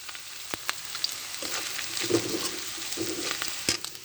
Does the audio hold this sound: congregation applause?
no